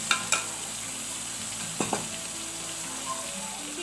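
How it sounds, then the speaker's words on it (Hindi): Chicken pieces fry in hot oil in a karahi with a constant, even sizzle. A few sharp clinks of a utensil against the pan cut through early on and again midway. "चिकन को मैंने फ्राई कर लिया है इस तरह से"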